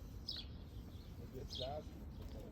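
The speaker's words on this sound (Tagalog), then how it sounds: "naririnig nyo ba yung ibon? Chirping of a bird." Two brief, faint bird chirps ring out against a low, steady outdoor background in a Swiss garden, spaced about a second apart.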